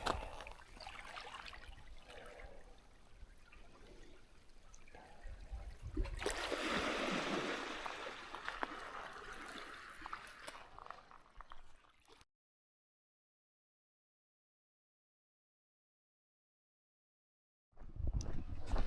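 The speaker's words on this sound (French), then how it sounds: "C'est relaxant, le son de la mer, les vagues." Sea waves wash against the coast along a hiking trail, a soft continuous rush of water with one swelling surge, then a long silence before the surf returns faintly.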